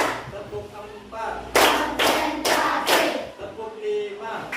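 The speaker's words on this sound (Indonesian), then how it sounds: "tepuk satu, tepuk dua, tepuk tiga, tepuk empat," A classroom of students clapping in counted bursts, several loud group claps spaced about a second apart, with a teacher's voice calling between them.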